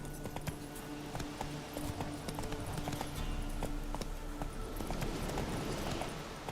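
Roach the horse in The Witcher 3 clip-clops along at a steady trot, with hoofbeats crisp and close over a soft outdoor background.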